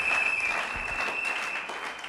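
Steady applause from a church congregation at a worship service, dense continuous clapping at moderate loudness, with a faint hint of voices underneath.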